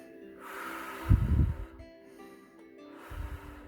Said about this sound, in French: je vais vous inviter à vous détendre, à inspirer, à expirer, à inspirer, à expirer